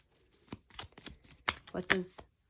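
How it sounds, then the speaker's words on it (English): Tarot cards are shuffled by hand in a few quick riffling bursts, faint and close, with someone speaking softly over them. "Oh my god, I feel like my hands can't shuffle."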